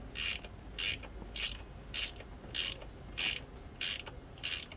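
A ratchet clicks in steady bursts as a bolt is driven into the clutch of a Kawasaki KE100 motorcycle, giving seven or eight evenly spaced rounds of bright pawl clicking with brief quiet gaps between them, close up and without talk.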